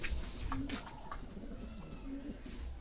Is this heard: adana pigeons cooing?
yes